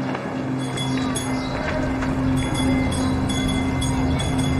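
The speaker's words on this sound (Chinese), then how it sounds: "电车来了" A tram in a 1930s city street rolls in with a steady, close, mechanical rumble and a sustained low hum, a faint metallic rattle riding on top for the whole stretch and no voices over it.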